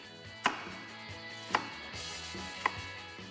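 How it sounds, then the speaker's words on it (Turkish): Three sharp knife chops cubing an onion on a cutting board, spaced about a second apart, close and clear with quiet room tone between. "Soğanımı da küp şeklinde doğrayıp domateslerimin üzerine ilave edeceğim."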